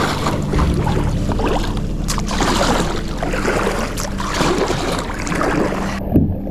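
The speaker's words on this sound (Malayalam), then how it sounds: "ദാ വരുന്ന ഹൗസ് ബോട്ട് നമ്മളെ നേരെയാണോ വന്നുകൊണ്ടിരിക്കണം" A houseboat approaching on the Punnamada backwater in heavy rain, a steady low engine rumble with water wash and rain noise throughout, fairly close and loud.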